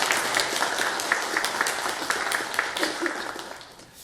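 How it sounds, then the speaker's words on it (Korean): A church congregation applauds its choir with sustained, dense clapping from many hands in a reverberant hall, staying steady and then tapering off toward the end. "우리 할렐루야 찬양대를 위해서 함께도 크게 함께 박수하겠습니다."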